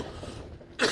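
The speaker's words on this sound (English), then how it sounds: "Hold on while I cough one last time." A single sharp, loud cough bursts out near the end, after a moment of low background noise.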